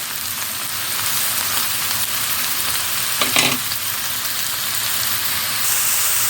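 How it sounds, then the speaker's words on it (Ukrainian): Mushrooms frying in about 80 grams of oil for pie filling, a loud, dense, rain-like sizzle that runs steadily throughout, broken once by a brief clatter near the middle. "І так, додали наші грибочки і обсмажуємо їх."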